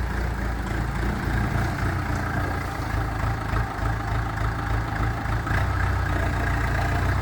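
A Glavov 504 mini tractor's small diesel engine idles steadily with a low, rumbling chug, close by and continuous with no voices.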